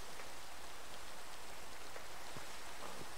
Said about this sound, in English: You better get in out of the rain